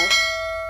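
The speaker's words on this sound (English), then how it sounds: "Hit that notification bell." A notification bell sound effect rings once: a bright metallic strike followed by a long, clear ringing tone that slowly fades, alone with no voice.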